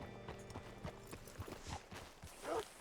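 Horse hooves clip-clop in a steady walking rhythm in Red Dead Redemption 2, close and moderately loud, with a brief whinny-like sound near the end.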